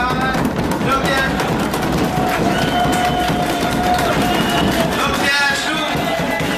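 Classmates are greeted in a classroom with dense, continuous clapping from a group, with voices talking over the applause throughout.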